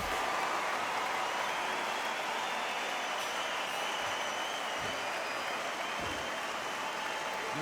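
Boxing arena crowd before a title fight, Tarver against Usyk, a steady dense roar of many voices with scattered shouts and claps, loud and continuous throughout.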